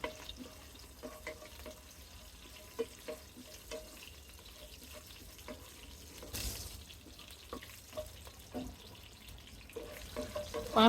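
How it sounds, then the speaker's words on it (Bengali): Whole panch phoron, two bay leaves and a piece of cinnamon fry in oil, a soft low sizzle with scattered pops and crackles close by, a brief louder burst midway. "পাঁচ ফোড়ন আর তেজপাতা ভাজা হয়ে সুন্দর একটা গ্রান বের হয়েছে"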